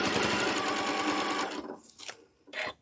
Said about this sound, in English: We're just sewing from crease to crease.